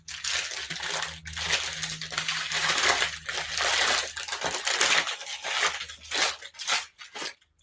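Close, continuous rustling and crinkling of wrapping being pulled from a patchwork-patterned glass bird ornament, with sharp crackles and brief pauses; no one speaks.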